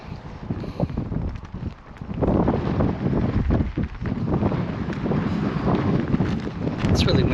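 Strong wind roars across the open shore of San Luis Reservoir, a steady broadband rush buffeting the microphone that swells louder after the first two seconds and keeps gusting throughout.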